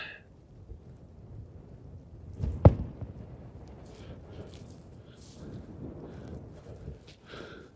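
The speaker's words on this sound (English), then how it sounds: "Very blustery." Strong wind on the fell top of Ard Crags in the English Lake District buffeting the microphone in a low, uneven rumble, with one sudden thump partway through.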